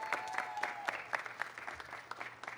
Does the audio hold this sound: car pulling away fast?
no